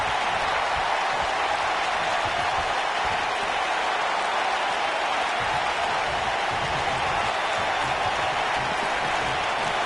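A big crowd roars continuously at a one-on-one wrestling match in a steady, wash-like din, filling the space without letting up, like an arena full of cheering fans.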